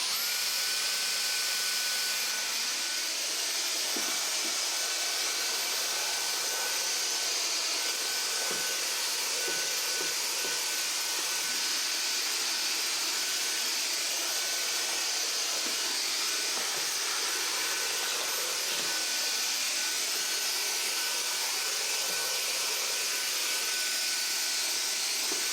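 A Dyson Omni-Glide cordless stick vacuum runs at maximum suction while cleaning stairs, producing a steady, loud, close whine and airy hiss throughout, with faint bumps and knocks as it moves over the steps.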